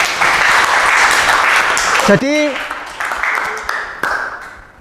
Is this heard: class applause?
yes